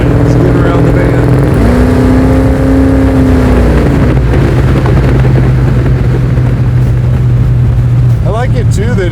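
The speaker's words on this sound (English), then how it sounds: "you can hear that it's a muscle car, but with the exhaust going all the way out the back" A garage-built 1970 Chevelle muscle car with about 500 wheel horsepower and exhaust routed out the back rumbles loudly and continuously while driving, a deep steady engine drone with pitch shifting under acceleration.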